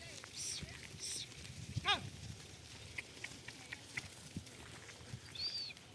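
A flock of sheep grazing on dry grass, with a few scattered bleats over soft rustling and chewing, an occasional nearby call standing out from a steady low ground noise.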